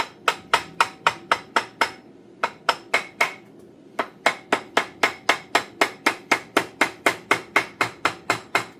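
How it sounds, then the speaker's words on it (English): A ball peen hammer strikes the edge of a part on a 1958 Farmall 450 tractor engine, giving sharp, loud metallic blows in a fast, steady rhythm with two brief pauses and no talking. "use your ball peen, hit the edge, like that, and go round right around it"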